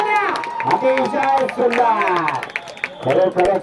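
Applause and clapping from spectators at a bullock ploughing race in paddy fields, running steadily beneath a loud commentator's voice through the whole stretch.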